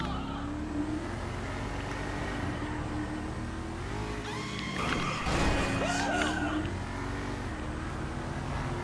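Armored car with built-in machine guns in a video game, its engine droning steadily and loudly throughout, with a brief surge of louder revving and clatter midway.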